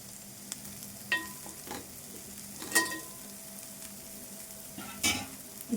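Dried fish curry sizzles quietly in a pan as chili powder is stirred in, with a few distinct spoon scrapes and clinks over a low, steady frying hiss.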